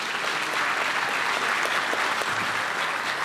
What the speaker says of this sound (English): let's give a round of applause to our city commissioners for all the hard work that they do